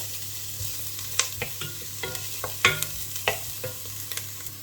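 Chopped garlic cloves, mild chilli powder and ground cumin sizzle in a pan, a low steady frying hiss broken by sharp scraping and tapping as a spoon stirs them.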